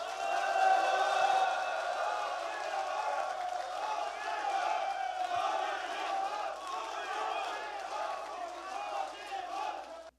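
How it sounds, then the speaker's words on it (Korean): Large crowd at a Democratic Party joint campaign rally for the Jeonju mayoral candidate selection, cheering and shouting steadily as a candidate is welcomed to the stage, a dense sustained roar of voices lasting the whole span. "큰 박수로 맞아주시기 바랍니다."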